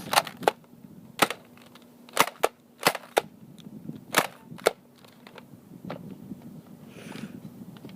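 A Nerf Disruptor dart blaster fires in a series of sharp, loud snapping shots at irregular spacing, about ten in all, with quiet handling noises between them.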